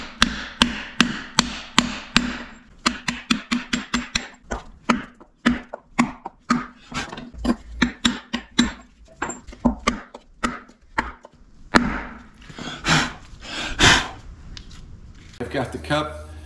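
A large socket is hammered to drive a bearing cup into a 1946 John Deere front wheel, producing a long run of sharp metallic blows in irregular bursts, close and loud.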